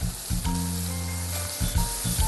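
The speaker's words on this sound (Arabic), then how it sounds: "القلية ماشية وبتشهي" Cherry kebab patties, 20 to 25 gram rounds pressed in the middle, fry in a pan with a continuous soft sizzle broken by a few brief bursts, close and moderate in level.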